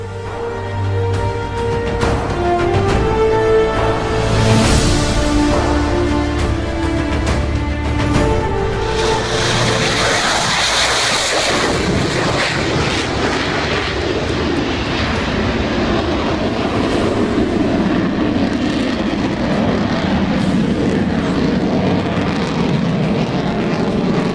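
Jet aircraft at the Farnborough 2014 airshow, each engine making over 20,000 pounds of thrust with afterburner, roar loudly and without a break. A whining engine tone early on gives way to a broad, rumbling blast that fades slowly.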